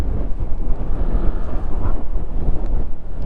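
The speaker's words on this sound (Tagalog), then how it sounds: "Lakas ang hangin, grabe" Strong wind at the Pacific viewdeck in Dingalan pounds the microphone with a loud, low, buffeting roar that swells and dips without a break.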